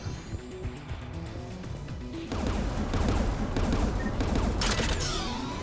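Sustained turret gunfire in the Mass Effect 3 video game, rapid continuous automatic bursts that grow louder and heavier partway through, mixed with crashing impacts.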